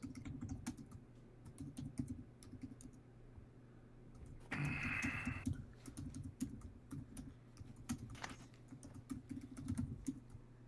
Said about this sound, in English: Vigorous typing is happening.